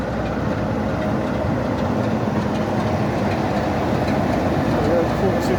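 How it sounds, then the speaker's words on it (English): Class 46 diesel locomotive 46045 in BR blue livery, running light back into Alton on the Mid Hants Railway, makes a steady, loud, rumbling drone with rail noise, continuous and close. "So this is 46045 running light back into Alton now, painted in its 1970s BR blue livery."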